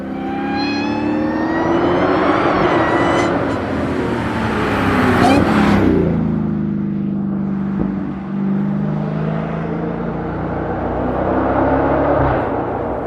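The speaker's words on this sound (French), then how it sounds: "C'est un des superchargers les plus massifs et les plus bruyants que vous pouvez acheter" Supercharged Hellcat V8 driving on the road, its loud engine rising in a strong rev then settling into a steady deep drone, with continuous mechanical whine throughout.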